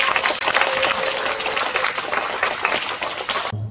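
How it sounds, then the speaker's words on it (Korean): Audience applause in a seminar room welcoming a lecturer to the podium for a special lecture, a brisk continuous clatter of many clapping hands that cuts off abruptly at the end. "큰 박수로 환영해 주시기 바랍니다."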